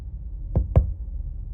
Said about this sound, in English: One of them knocked twice